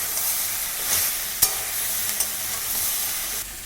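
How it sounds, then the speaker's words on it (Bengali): A fish head sautéing in a pan with garlic and ginger paste gives a steady hissing sizzle up close, with a couple of brief scrape clicks from stirring and no voices. "অল্প পরিমাণ রসুন বাটা আর অল্প পরিমাণ আদা বাটা দিয়ে এটাকে আমি ভালো করে"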